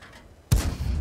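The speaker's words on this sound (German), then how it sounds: "Schießt mit Premium-Munition." A tank cannon fires premium ammunition in a tank video game: one sudden heavy boom lands midway, after a quiet lead-in, and its rumble trails off afterward with no talking.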